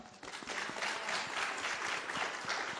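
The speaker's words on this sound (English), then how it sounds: "give them a round of applause, first of all." Audience applause at a women's real estate investing event, a steady, moderately quiet patter of many hands clapping that holds even for a few seconds.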